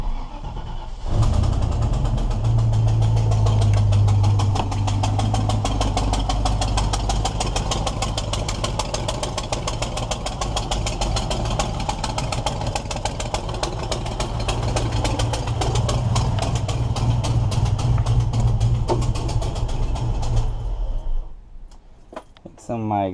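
A Land Rover Defender engine with a newly fitted NAS exhaust starts up and idles steadily and loudly for about twenty seconds, a deep continuous rumble that cuts off near the end.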